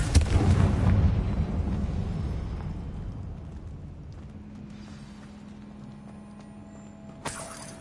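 In the video game Hogwarts Legacy, a Confringo fire spell bursts in a loud, deep explosion whose heavy rumble fades slowly, ending in a faint sharp crack.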